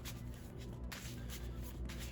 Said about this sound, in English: Shuffle, shuffle.